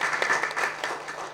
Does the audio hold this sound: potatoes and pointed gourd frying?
no